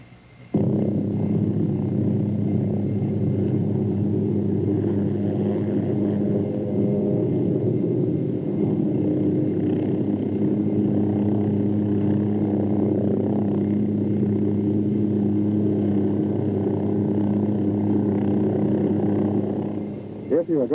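An OH-6 light helicopter pivoting in place around its tail rotor gives a steady, loud engine and rotor drone with strong low harmonic bands, continuous for about twenty seconds.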